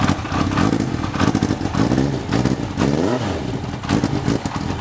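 Datsun 280Z engine breathing through a Kirker 4-in-1 exhaust, revving up and down in loud, close bursts with a rough, busy mechanical clatter throughout and no talking.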